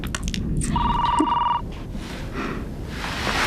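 A home telephone rings once, a clear, close electronic trill lasting about a second, followed by quiet room tone.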